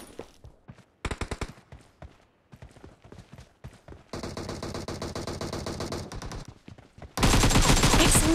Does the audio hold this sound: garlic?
no